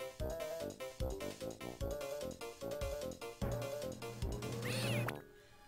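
A rhythm video game plays a steady beat-driven music track with cat meow sounds worked into it, repeating on the beat, loud and continuous before ending in a brief swoosh.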